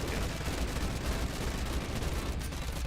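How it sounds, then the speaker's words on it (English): Machine pistol fire in a video game, a dense, loud stream of rapid gunshots that rattles on for the whole stretch without pause and with no voices over it. "Machine pistol."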